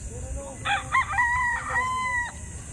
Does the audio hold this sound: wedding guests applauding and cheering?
no